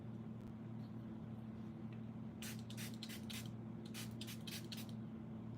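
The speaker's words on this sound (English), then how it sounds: "I do have a spray bottle. So I'm gonna put these in here and I'm just gonna spray them" A handheld spray bottle squirts water onto hanging swatches in several quick bursts, close by, over a low steady hum.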